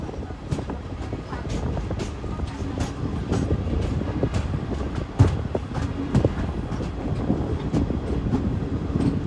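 A train stands at Wardha Junction railway station, giving a continuous rumble with uneven metallic clanks and knocks, and faint voices sit in the background.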